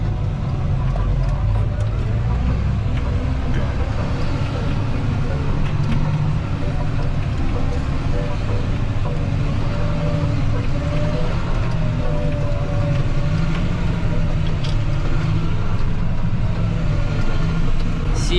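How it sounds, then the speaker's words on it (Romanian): A farm tractor's engine drones loud and close as it drives along, a steady low rumble running without a break the whole time. "Dar e o plăcere să conduci tractorul ăsta, nu știu, mie chiar îmi place sunetul"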